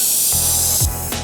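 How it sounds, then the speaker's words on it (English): A paint sprayer hisses loudly and close while spraying interior trim molding at low pressure, a continuous broad spray that sputters and shifts partway through, with a low mechanical hum beneath it. "I can start spraying this molding"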